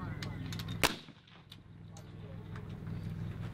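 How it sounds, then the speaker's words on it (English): A rifle fires at an NRA mid-range 3x600 match at Marine Corps Base Camp Pendleton, one sharp, loud crack that rings out over outdoor range ambience, with faint voices in the background. "You may commence fire."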